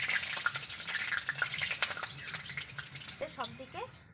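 Pieces of food dropped one at a time into heated oil on a low flame sizzle and crackle steadily, with scattered spatters and a few soft voice-like tones near the end.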